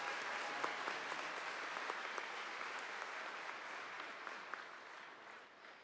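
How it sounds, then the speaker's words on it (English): Steady, even applause fills the hall at the Henry Wise Wood High School class of 2025 graduation ceremony, a broad wash of many hands clapping at a distance that continues throughout with little change. "please join me in another round of applause to congratulate this section of the Henry Wisewood High School graduating class"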